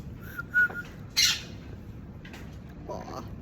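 A pet bird makes a few short whistled chirps and squawks, close and moderately loud, spaced across a few seconds against a quiet indoor background.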